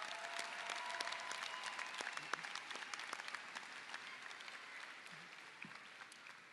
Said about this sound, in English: let's please give our teachers and staff a round of applause